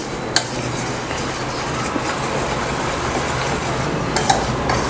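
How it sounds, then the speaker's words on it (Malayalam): Jaggery melting in a pan while a spoon stirs it, a steady soft scraping and swishing with a few light clicks against the pan, close and continuous, without any talking. "അതൊന്ന് മിക്സ് ചെയ്ത് കൊടുക്കാം."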